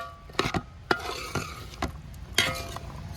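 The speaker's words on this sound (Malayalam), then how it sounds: "നല്ലപോലെ ഒന്ന് ഇളക്കി കൊടുക്കാം." Apple and champakka pickle being stirred with vinegar in a pan, with several distinct scraping and clinking strokes over a faint sizzle, fairly close and without speech.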